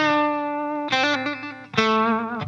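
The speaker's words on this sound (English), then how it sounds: "Very short slapback echo." Electric guitar notes through a JOYO D-Seed digital delay pedal set to a very short slapback echo, three sustained distorted chords each followed by a tight repeat, played alone.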